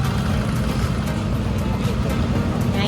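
A delivery vehicle idling in place while it waits for a load of peeled garlic, giving a steady low engine drone that stays close and constant throughout.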